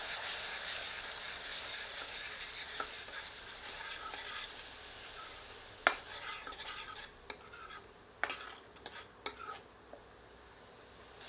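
Ground onion paste frying in hot oil over medium heat, a quiet steady sizzle with occasional sharp scrapes and clinks of a spoon against the pan in the second half, with no talk.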